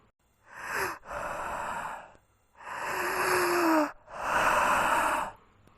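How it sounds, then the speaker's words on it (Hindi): Someone nearby breathes heavily in four long, rasping breaths, in and out, with short silent gaps between them. "किसी की सांसों की आवाज़ सुनी।"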